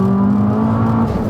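A tuned, fully built 340 bhp Abarth 595 engine droning loud and steady with a rising turbo whir as it spools up, close inside the car, no voices.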